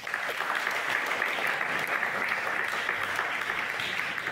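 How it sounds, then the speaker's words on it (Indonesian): A church youth gathering crowd claps steadily and enthusiastically for several seconds, a dense even wash of applause with no pauses. "Tepuk tangan buat Tuhan kita."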